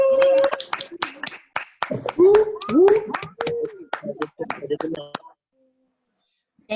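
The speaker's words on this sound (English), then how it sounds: "I want to make sure we do another big round of applause" Scattered clapping from participants on a Zoom call after a live poetry reading, sharp separate claps in an uneven burst with a couple of voices calling out over them, then stopping abruptly into silence.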